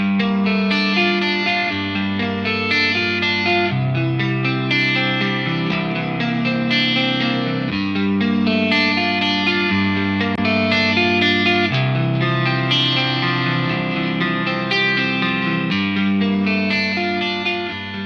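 Electric guitar played through a Marshall DSL20HR amp, a sustained distorted tone with chorus-like shimmer and reverb, loud and steady as chords change every couple of seconds, with no talking.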